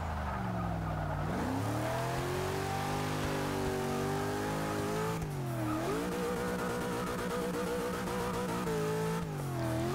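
A 1974 Toyota Corolla SR5 engine in Forza 6 revs hard and steadily, pitch climbing through gears with dips at shifts, continuous and loud with faint tire squeal, no talk.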